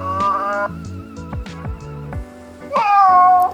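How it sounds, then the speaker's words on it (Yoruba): A domestic cat meows twice, once near the start and again, louder and longer, near the end. Both calls are close and clear over quiet background tones. "ológbò"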